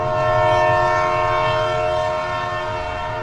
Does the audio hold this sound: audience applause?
no